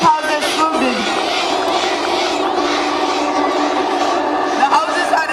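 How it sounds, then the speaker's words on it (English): Crowd of school houses cheering and shouting for a girls' relay team at a school sports day, a loud continuous roar of young voices with whoops rising throughout. "The houses are enthusiastically cheering for the team."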